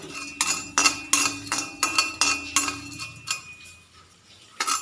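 Peanuts roasting in a pan for Karkkidaka unda, giving a rhythmic series of sharp metallic scrapes and clinks as a spoon stirs them, about a dozen strokes, close and moderately loud, with no voices.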